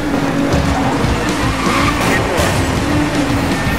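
Lexus LFA racing in Need for Speed Most Wanted (2012), a loud continuous engine roar with tire squeal and skidding through the whole stretch, mixed with game sound and faint voices.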